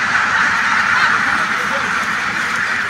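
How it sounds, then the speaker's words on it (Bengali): A flock of ducks quacks in a dense, continuous chorus at a riverside duck farm, fairly close and loud, with someone talking over the birds. "এখানে নদীর পাড়েই একটি হাঁসের খামার গড়ে উঠেছে।"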